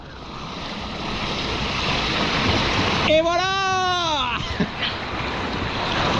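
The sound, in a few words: water rushing from opened sluice gates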